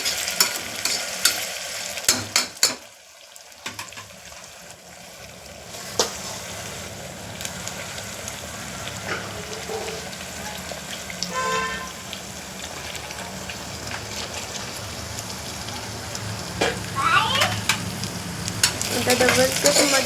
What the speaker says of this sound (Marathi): छान असा परतून घ्यायचोय, कारण खालून चिटकायला नको.